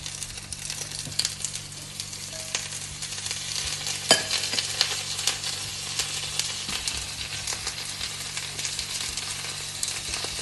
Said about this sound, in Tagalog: Tapos butter. Grill lang natin siya guys.